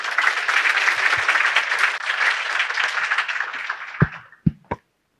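Audience applause welcoming the president of Academia Sinica to the lecture stage, a dense, loud wash of many hands clapping that tapers off, ending with a few separate late claps.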